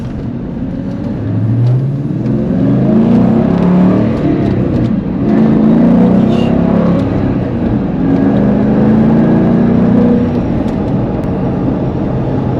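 Ford Mustang Bullitt exhaust on a rainy day, a steady low rumble with rising and falling engine pitch as the car drives, loud and continuous throughout with no talking.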